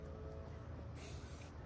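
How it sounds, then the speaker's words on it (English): An aerosol can sprays paint onto a shower rod in a steady, close hiss that runs throughout, with brief surges in intensity partway through. "we have this shower rod that we need to spray paint"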